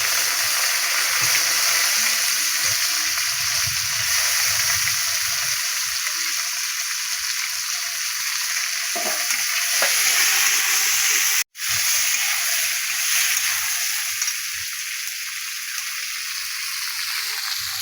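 Potato, tomato and home-grown beans frying with chopped onion in a pan, a loud steady sizzle and hiss throughout with occasional stirring clatter, no talking.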